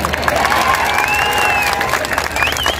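Crowd applause and cheering at a Rahul Gandhi political rally in Solapur, a dense, steady roar of clapping lasting a few seconds, with voices mixed into the noise.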